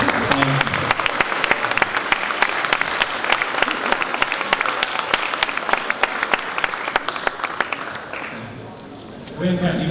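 An audience at a school awards night applauding steadily, dense clapping filling the space, fading briefly near the end before a voice comes in.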